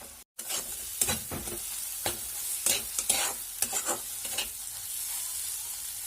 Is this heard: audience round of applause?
no